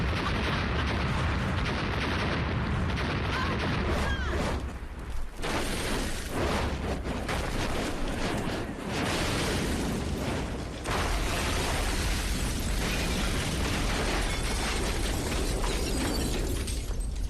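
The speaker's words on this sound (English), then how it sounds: "Now they're exploding like an official fireworks show right in front of her house" Fireworks explode right in front of a house on the Fourth of July, a dense, continuous barrage of loud cracks, bangs and crackling bursts going on without pause.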